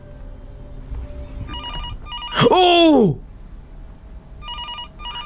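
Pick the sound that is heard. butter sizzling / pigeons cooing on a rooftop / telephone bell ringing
telephone bell ringing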